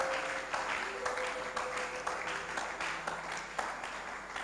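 A church congregation claps along in a steady rhythm of roughly two beats per second, the sound fairly loud and full, layered with sustained musical tones from the worship service.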